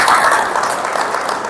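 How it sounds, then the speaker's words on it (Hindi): Dense, loud applause from an audience at a gathering, a continuous wash of many hands clapping close by that fades slightly toward the end. "जोरदार तालियां उनके लिए।"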